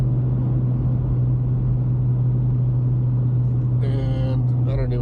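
A car drives along the road with a steady low engine and road rumble close by, and a voice begins talking over it near the end.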